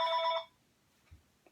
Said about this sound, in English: And I love when the phone rings in these videos